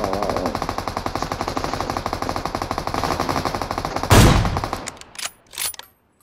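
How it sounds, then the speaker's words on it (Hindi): Rapid automatic gunfire in a shooting video game rattles in a dense, continuous burst, ending with a loud blast and then a few scattered, fading shots and clatter. "भाई ये पाकिस्तानियों की तरफ से फायरिंग है"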